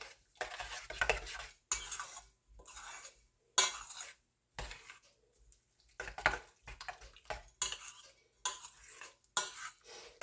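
A spoon mixing chutney in a bowl for sattu paratha, with a run of close scraping, clinking strokes in irregular bursts separated by short pauses, heard alone.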